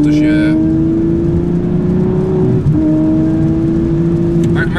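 An Aston Martin V12 Vantage S engine hums at steady cruising speed, a loud continuous drone that dips briefly as if on a gear change and then carries on, with road noise beneath and talk inside the car.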